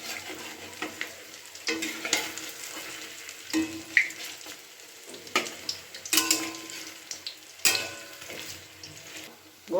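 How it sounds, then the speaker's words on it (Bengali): Radish and small shrimp fritters frying in hot oil, a steady soft sizzle broken by bursts of louder crackling and clattering as the fritters are turned, with no talking. "বড়াগুলো আমি ভাজতে দিয়েছিলাম, এবার বড়াগুলো আমি উল্টে নিচ্ছি।"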